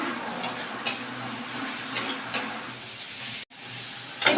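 Spice mix frying in a pan for a rohu fish curry, a steady close sizzle with a few sharp scrapes of stirring and a brief silent break near the end.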